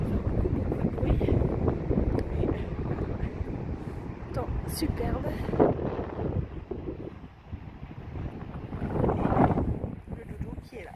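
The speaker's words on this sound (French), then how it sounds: "il y a beaucoup de vent, c'est pas hyper agréable" Strong wind buffets a microphone outdoors, a continuous loud rumbling roar with gusts swelling and fading, while a voice talks briefly over it.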